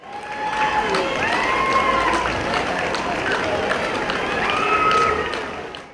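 A large crowd of spectators at a swimming championship in Lviv applauds and cheers steadily throughout, heard beneath a voice speaking over it.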